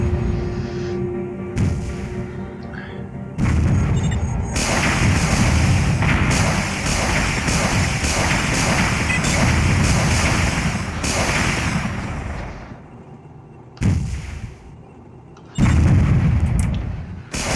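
Heavy anti-bunker cannon and missile fire in the video game Warzone 2100 pound in dense, rapid volleys of booms and blasts, loud and continuous, with short pauses near the end.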